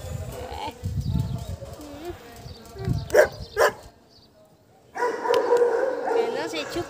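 Female dog making short barks and whimpering whines indoors, intermittent yelps close by, with someone talking to her between sounds.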